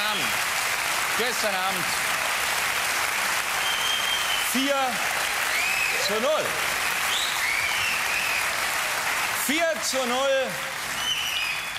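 A studio audience on the Harald Schmidt Show applauds loudly and continuously, with someone talking over the clapping throughout.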